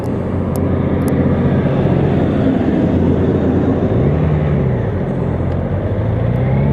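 A car drives along the old Great South Road outside Auckland, a steady close engine drone and road rumble with slowly shifting tones, continuous and loud with no talk.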